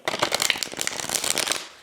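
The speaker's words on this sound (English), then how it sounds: "It's already been shuffled, but I feel called to shuffle it one more time." A tarot card deck is riffled and shuffled by hand, giving a close, dense run of crisp papery flutters and snaps for under two seconds, with no talking.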